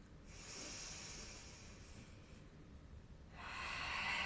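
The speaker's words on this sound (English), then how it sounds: "One more breath." A slow, deep breath during a yoga stretch: a long, soft airy inhale, a pause, then another breath starting, faint and close with no talking.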